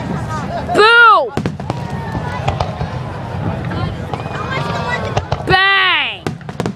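Fourth of July fireworks in Pittsburgh crack and whistle in two loud bursts, each with a rising, whistling streak and sharp pops, with people talking and reacting nearby between them.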